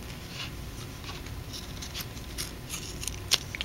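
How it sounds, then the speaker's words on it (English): Quiet snips of scissors trim excess material from a craft clothespin, a few faint crisp cuts and light rustles against a low room hiss, with one sharper snip near the end. "Cut off the excess."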